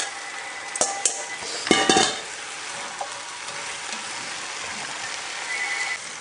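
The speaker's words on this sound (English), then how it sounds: "now I've mixed all these veggies with the meat" Beef, bacon bits and vegetables being stirred together in a hot pan for a beef barley stew, steady sizzling throughout with a cluster of spoon scrapes and clatter early on, then a continuous fry with no talking.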